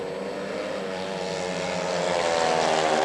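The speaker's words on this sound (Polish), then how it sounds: "Adrian Miedziński kłopoty z utrzymaniem się na motocyklu ma" Speedway motorcycles race in a 2003 Polish league play-off between Apator Toruń and Włókniarz Częstochowa, a loud sustained engine whine that builds slightly and stays close and continuous.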